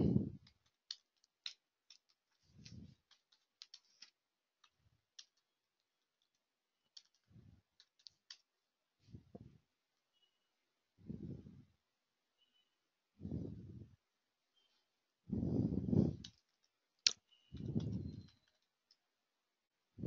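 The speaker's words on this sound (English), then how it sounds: "So now I am typing clear." Computer keyboard keys being typed during a Unix terminal session, quiet scattered clicks arriving in short bursts with gaps between them, close and dry, with soft voice-like murmurs in between.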